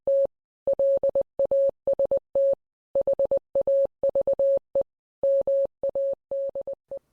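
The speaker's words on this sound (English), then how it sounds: "Assuming the transmission did go out in Morse code, Howard Carter's message probably sounded like this." Howard Carter's telegraph message announcing the Tutankhamun tomb discovery, sent in Morse code: a clear, steady single-pitch tone keyed in crisp short and long beeps with brief gaps, heard alone and close.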